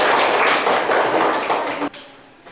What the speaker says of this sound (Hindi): ताली बजाना आप लोग को।